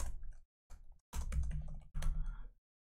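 Typing on a computer keyboard while filling in drawing title-block fields in SolidWorks 2019, heard as several close bursts of quick key clicks separated by short pauses.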